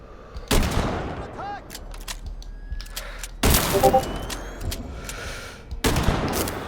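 Bursts of gunfire from EMP rounds in the video game Sniper Ghost Warrior 3 come as three loud broadband blasts with ringing decay between them, over faint in-game ambience.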